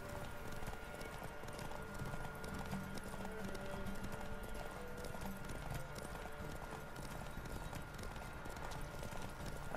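A horse gallops in The Witcher 3 video game, its steady rapid hoofbeats continuous and fairly quiet under game ambience, with a brief whinny possible.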